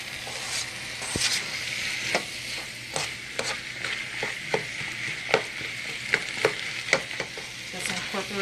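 Ground turkey fries with onions and peppers in a hot pan, a continuous close sizzle broken by repeated sharp scrapes and clicks as the mixture is stirred.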